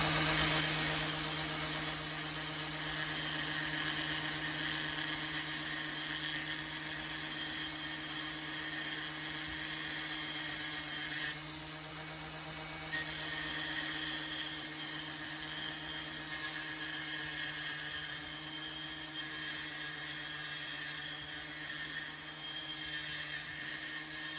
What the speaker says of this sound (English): you can see my angle grinder's now on and moving off the bench